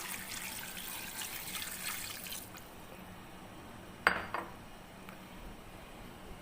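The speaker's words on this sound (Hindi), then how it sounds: "अब मैं इसमें पानी डाल रही हूँ।" Water pours into a cooking pot holding beef bong meat and a large bone, a soft steady splashing stream that stops halfway, followed by a brief clink of metal.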